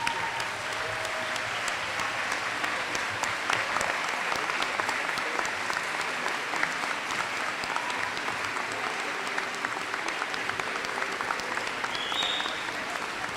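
A graduation audience of families and community members claps in a dense, steady round of applause that carries on evenly for the whole stretch, with only faint voices mixed in.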